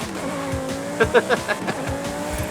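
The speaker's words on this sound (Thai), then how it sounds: "เปลี่ยนเกียร์นี่แบบแบ็คไฟดังบุดังบักนะครับ" Car in Forza Horizon 5 shifting gears, its engine backfiring in a quick burst of four or five sharp pops over a steady revving drone.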